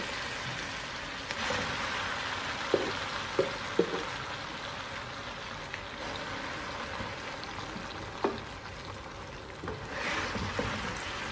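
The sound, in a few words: ground mustard greens and spinach sizzling with garlic in pan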